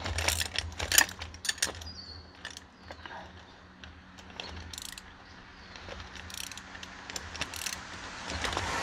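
A ratchet wrench with a 19 mm socket clicks as it tightens a bolt into a nylock nut on a utility trailer caster, giving bursts of quick, close metallic ticks with short pauses between them.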